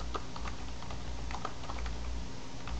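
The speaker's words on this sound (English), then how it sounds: "Here's where I can type my information." Typing on a computer keyboard, with quick irregular key clicks close to the microphone over a steady low hum, continuous and moderately loud with no voices.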